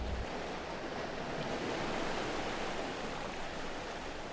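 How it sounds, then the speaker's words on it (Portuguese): Steady, dense wash of sea surf rushes continuously around people sitting on surfboards in the ocean, a broad roaring hiss with no distinct breaks and no voices. "No mar, duas pessoas sentadas em pranchas. As ondas batem nelas."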